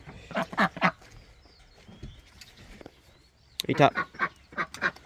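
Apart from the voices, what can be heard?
ducks quacking while being fed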